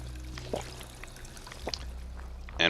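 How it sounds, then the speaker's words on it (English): Water pouring from a drinking fountain in Fallout 4 survival mode, a soft steady stream under low game ambience with a few faint clicks and a brighter burst at the end. "I need some fresh water. Just make this a drinking fountain."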